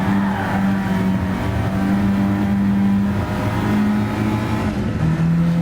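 Citroen DS3 engine driving in Gran Turismo Sport, a steady loud drone with shifting engine tones throughout, pitch rising and dipping through gear changes, with no voices.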